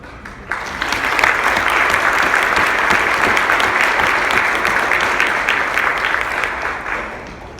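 An audience at a Mississippi Department of Education event breaks into loud, steady applause welcoming speaker Kiana Davis, a dense wash of clapping that swells quickly and holds before easing off.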